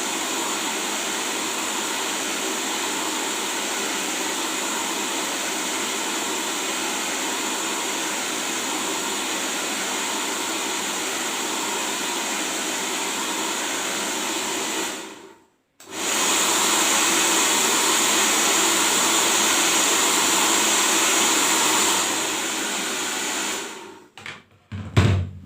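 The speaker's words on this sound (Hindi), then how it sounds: "अब देखिए मैं इनके इस तरह से ड्रायर लगा रही हूँ।" An electric hair dryer blows on hair during a shoulder-length step haircut: a loud, steady whooshing hum that cuts out briefly midway, resumes, then stops with a few short bursts and clicks at the end.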